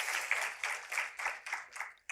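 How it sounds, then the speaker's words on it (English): An audience at an art talk applauds in a soft, rhythmic wave of clapping that swells and dips roughly every quarter second, fairly distant and fading toward the end. "we can clap for her"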